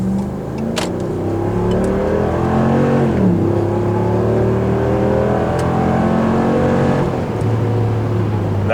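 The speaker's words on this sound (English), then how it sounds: "This is the factory muffler on this truck. This is how it sounds from the inside." A 2016 Ram truck with its factory muffler accelerates from a standstill to 60 mph, heard from inside the cab: a steady engine drone climbing in pitch through each gear, dropping at the shifts, loud and continuous.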